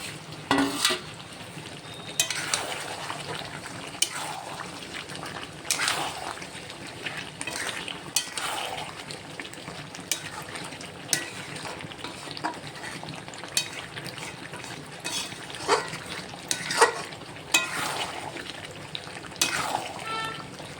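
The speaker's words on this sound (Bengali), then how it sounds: "এখন দিয়ে দেব আগে থেকে ভেজে রাখা লাল করে আলুগুলো।" Red-fried potatoes are stirred into chicken curry simmering in a pan, giving a steady low sizzle broken by repeated scraping and clattering strokes of a spatula against the pot throughout.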